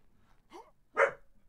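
Dogs in the ARK: Mobile dungeon give a short yip, then a louder bark, brief and fairly close, with no speech.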